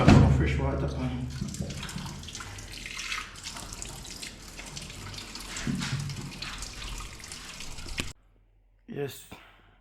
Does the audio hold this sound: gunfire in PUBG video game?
no